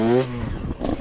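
Two-stroke dirt bike engine revving in quick throttle blips at low speed while setting up a wheelie, a loud, close, rising and falling buzz with a second burst near the end.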